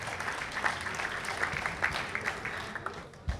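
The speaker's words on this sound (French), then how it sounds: "On peut l'applaudir et l'encourager, Rémi Ferreira." Audience applause greets Rémi Ferreira of Skyrock at a radio fair's young-talent final, a steady moderate patter of clapping across the whole stretch with no voices over it.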